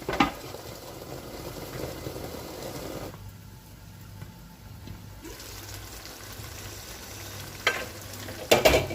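Tomato fries in oil inside a covered pot for an assorted meat stew, a steady low sizzle with soft bubbling that dips briefly quiet, ending with a few clanks near the end.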